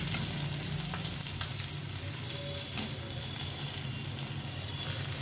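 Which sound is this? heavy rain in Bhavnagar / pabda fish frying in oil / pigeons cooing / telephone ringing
pabda fish frying in oil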